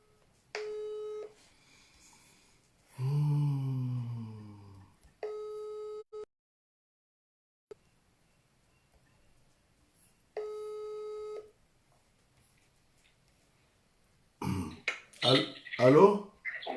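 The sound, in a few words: telephone call tone while calling someone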